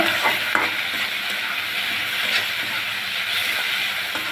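Banana peels and browned onion are stir-fried in a pan, a loud steady sizzle with occasional spatula scrapes, close and continuous.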